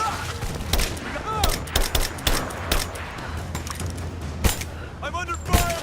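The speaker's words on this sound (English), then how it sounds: "What a piece of shit assault rifle" Repeated rapid assault rifle bursts from the video game Rise of the Tomb Raider crack out in loud, irregular volleys over a low steady hum, with voices calling out between and under the shots.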